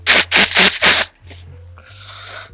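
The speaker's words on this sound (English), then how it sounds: "I'm going to blow my nose." Four loud, forceful bursts of nose-blowing into a tissue, close up, followed by quieter rustling and a low background hum.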